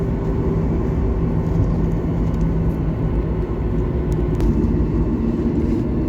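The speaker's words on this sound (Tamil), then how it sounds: "நம்ம ஃப்ளைட் கிளம்பிட்டு இருக்கு" Air India Express airliner taxiing slowly before take-off, heard from inside the cabin as a steady, loud engine roar and whir that runs evenly throughout with no talk over it.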